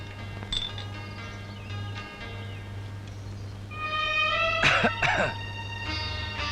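A few short, harsh coughs burst out partway through over a steady low hum, loud and close, with quiet background noise before them, in a scene from the Malayalam film Mahayanam.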